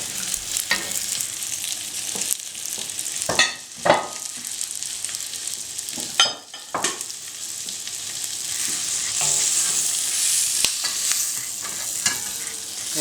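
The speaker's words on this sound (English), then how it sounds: "I'm going to toss all the vegetables into the cream cheese" Tender-cooked vegetables, snow peas among them, get stirred and tossed through cream cheese in a pan, a steady sizzle broken by scraping clatters of the utensil, close and with no voices.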